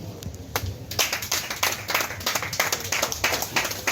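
Audience applause at a New Year wishes ceremony, a steady burst of many hands clapping that starts after a brief lull and continues densely, fairly close, with no talk over it.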